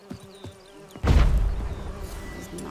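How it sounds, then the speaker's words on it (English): Bees swarm and buzz in The Witcher 3: Wild Hunt, a thin insect drone under a faint ambient wash that surges after a heavy thump and keeps droning densely. "Why are the bees all over this?"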